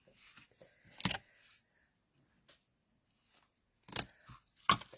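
Scissors snip through a length of soft material for a pop-up gift card holder, a few short separate crisp cuts with quiet pauses between them.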